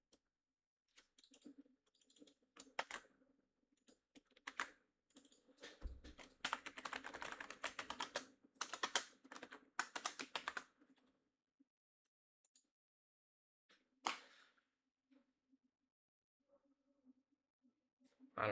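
Close, quiet typing on a computer keyboard comes in irregular bursts of rapid key clicks, with a dense flurry in the middle and scattered single taps and pauses between, in an otherwise silent room.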